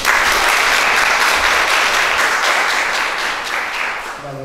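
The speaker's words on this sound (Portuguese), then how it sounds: "Uma salva de palmas, né?" An audience at a teachers' session in Brazil gives a speaker a round of applause; dense, loud clapping sustained throughout, tapering slightly at the end.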